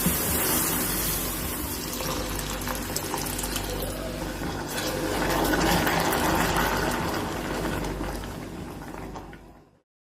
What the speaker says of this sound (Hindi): इससे थोड़ा थोड़ा सा दूध डाल के इसको मिक्स करते रहना है आपने इस तरह से